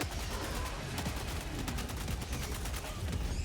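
Gunfire in the video game Helldivers 2, a dense stream of rapid automatic shots and blasts rattling continuously at close range, loud throughout with a thick low rumble beneath.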